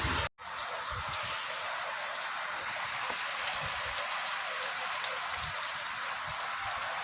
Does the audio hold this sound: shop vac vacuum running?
no